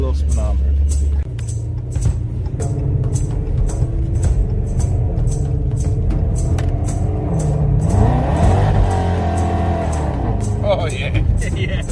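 A car engine pulls hard under light, quarter-throttle acceleration, its note rising and falling as it revs and shifts, heard from inside the cabin with people talking over it.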